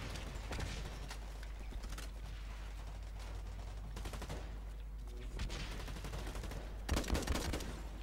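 Combat rifle fire in the online shooter Blacklight Retribution, with sharp bursts and scattered shots over a low, steady game hum, faint and distant-sounding, and a louder burst near the end.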